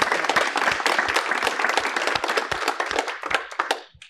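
A small live coaching-session audience claps, the applause starting full and brisk, then thinning into scattered individual hand claps that trail off to silence near the end.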